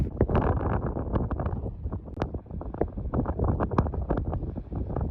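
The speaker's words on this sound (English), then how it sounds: "it is so cold and so windy" Strong, cold gusting wind at Black Mesa, Oklahoma buffets the microphone, a rough low roar with rapid bumps and rumbles throughout, close and loud with no voices.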